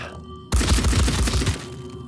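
Gunfire in the video game Phoenix Point, a sudden burst of rapid shots that starts sharply and rattles for about a second before stopping, loud and close, with no talking over it.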